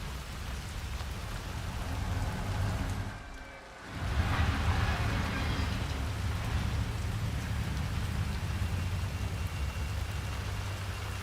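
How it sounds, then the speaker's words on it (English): Steady rain pours down in the Hitman 3 video game, a dense, even hiss that briefly thins out for a moment before returning at full strength, with no voices. "I'm never going out in the rain again."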